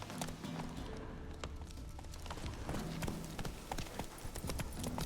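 A horse galloping in The Witcher 3, with steady rhythmic hoofbeats running through the whole stretch over continuous ambient game sound, moderately loud and close.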